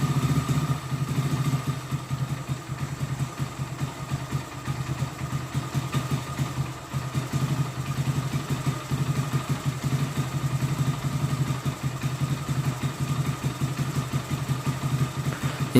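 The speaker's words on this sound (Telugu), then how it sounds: "ఇంజన్ సౌండ్ అయితే స్మూత్ వస్తుంది" Close by, a Hero Glamour BS4 motorcycle with a newly rebuilt engine idles smoothly and evenly, a steady low throb holding without revving and without voices.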